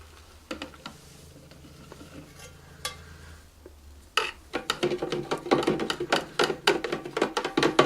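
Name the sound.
stirring soap bubble mixture with glycerine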